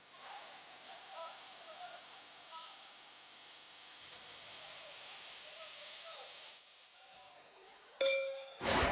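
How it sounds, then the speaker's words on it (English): A boxing bell rings to open the eighth and final round of a bout, a short bright metallic clang with ringing harmonics near the end, following a long stretch of steady background hiss and faint crowd noise. "that's the sound of the bell to start the last round"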